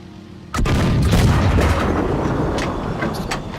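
A tank cannon fires in World of Tanks, one sudden heavy close blast followed by a rolling rumble that keeps going to the end.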